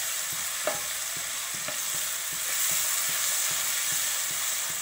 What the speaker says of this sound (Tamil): இப்போ வந்து நான் 4 தக்காளி கட் பண்ணி வச்சுருக்கிறேன், அதை போட்டுக்கலாம்.